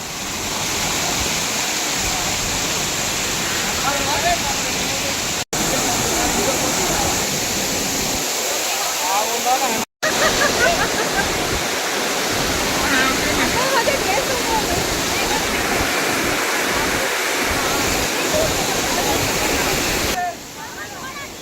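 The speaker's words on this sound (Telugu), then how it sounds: "మనకు ఈ వాటర్ ఫాల్ అనేది సీ లెవెల్ నుండి దాదాపుగా 2300 ఫీట్స్ హైట్లో ఉంది" Amboli waterfall in the Western Ghats, roughly 2300 feet above sea level, rushes with a loud, continuous broadband roar of falling water that barely changes across the whole stretch, apart from two very brief dropouts.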